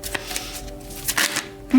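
Tarot cards being shuffled close up in a brief burst of soft riffling and flapping, with a faint tonal hum underneath.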